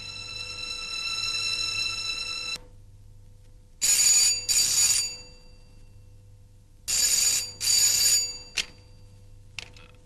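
An electronic telephone ring sounds steadily, then two pairs of loud ring bursts follow with pauses between, clear and close over a low background hum.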